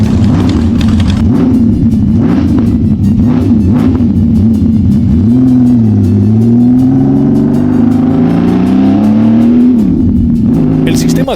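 A powerful six-cylinder motorcycle engine, with three exhaust pipes per side, revs up and down close by, a smooth rising and falling roar that swells in pitch and eases off.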